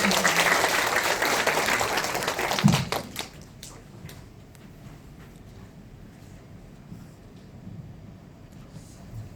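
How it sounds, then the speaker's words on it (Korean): A crowd at a county volunteer event bursts into loud, dense applause for about three seconds, then it trails off into a few stray claps over quiet room noise. "군수님께 큰 박수 부탁드립니다."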